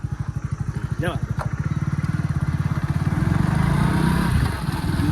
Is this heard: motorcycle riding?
yes